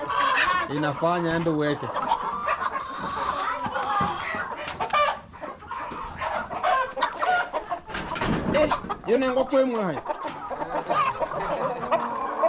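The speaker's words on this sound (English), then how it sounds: "we have a chicken here" Chickens cluck and squawk in a village, close and busy, mixed with people talking and background chatter throughout.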